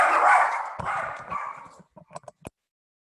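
Pet dogs barking at home behind an online meeting: a noisy, scuffling burst is followed by several short, sharp barks and yips at moderate distance, then quiet.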